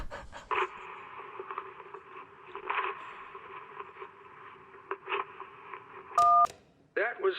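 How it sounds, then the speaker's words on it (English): Someone tearing up an electric bill in Kentucky Route Zero, heard as a narrow, phone-line-filtered ripping and rustling of paper in uneven bursts, then a loud keypad beep and a brief closing scrape. "That was someone tearing up an electric"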